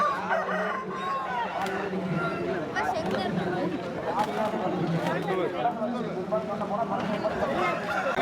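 Fighting roosters crow among the clucking of other fowl at the busy Siruvalur livestock market, with crowd chatter and people talking throughout.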